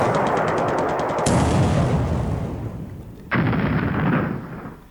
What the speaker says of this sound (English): double torpedo hit. This AP is more or less dead.